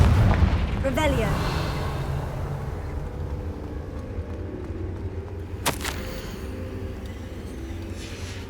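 A Confringo fire spell bursts in Hogwarts Legacy, a sharp explosive crack near the start followed by a rumbling low roar and another short blast midway, with game ambience throughout.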